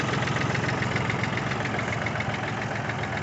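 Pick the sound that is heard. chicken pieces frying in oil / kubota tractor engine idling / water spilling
kubota tractor engine idling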